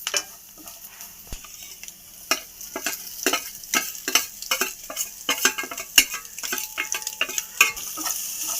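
Egg being stirred into a sizzling samosa filling in a frying pan, with a spatula scraping and tapping the pan in irregular bursts over a soft, steady sizzle; no talking.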